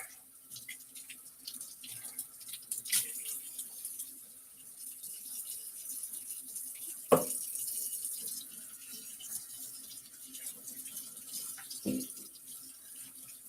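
Cold tap water runs steadily into a sink with a soft hiss, joined by occasional clunks and splashes as items are handled, at moderate volume and with no one speaking.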